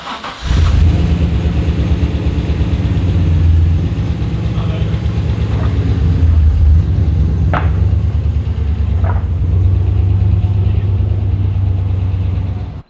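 A Holden Commodore VY Turbo on coilovers starts up and idles loudly, then rolls out of a workshop with a steady engine rumble and a few brief light knocks and clatters.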